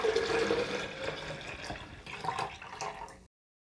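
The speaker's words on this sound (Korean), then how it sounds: "다 섞어진 간장물을 부어 보겠습니다" Soy sauce brine for pickled garlic pours steadily into a jar, a continuous splashing gush for about three seconds that cuts off abruptly.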